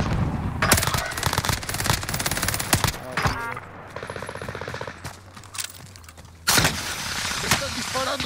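Dense automatic gunfire in the game Call of Duty Warzone, rapid bursts cracking close and loud, pausing briefly before a heavy burst resumes, with in-game voice lines underneath.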